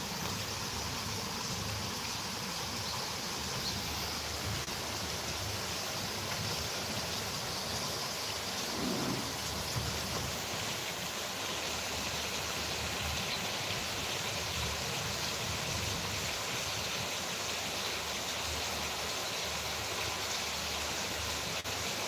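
Steady rain pouring outdoors in Bangladesh, a dense even wash of noise with no distinct thunder clap, continuous and moderately loud throughout.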